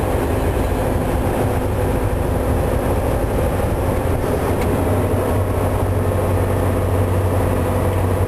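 Volvo truck with an I-Shift gearbox holding back on its engine brake, a loud, steady low droning roar with a constant rumble and broadband rush throughout, no voices over it.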